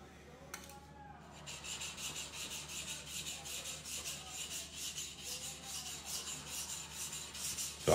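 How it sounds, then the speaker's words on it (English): A knife blade is hand polished, rhythmic back-and-forth rubbing strokes of abrasive on steel repeating steadily at a quiet level, close up. "So knife polishing takes a while."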